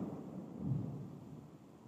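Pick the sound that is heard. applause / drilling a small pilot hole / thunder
thunder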